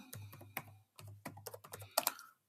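Fingers type on a computer keyboard while entering data in Excel, tapping out quick clusters of crisp keystrokes with short gaps between bursts, close and clear, with no talking.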